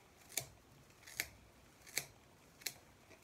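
Four separate, crisp scissor snips cut through layers of broom straw while making a wrought iron broom, evenly spaced and close in a quiet room.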